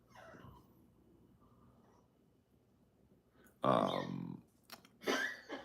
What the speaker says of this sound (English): That's my dog, Lois.